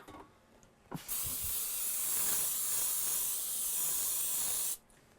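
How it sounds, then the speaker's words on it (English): A steady, sustained hiss of aerosol cooking spray onto an 8 by 8 baking pan lasting several seconds, starting and stopping abruptly after a brief clunk. "We got a 8 by 8 pan that we're going to spray."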